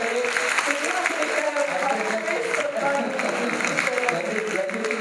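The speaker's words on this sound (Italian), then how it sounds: "un applauso anche alle bellezze di Antiverde" Audience applause at the 47th Premio Acqui Storia award ceremony, steady crowd clapping that continues under someone speaking over it throughout.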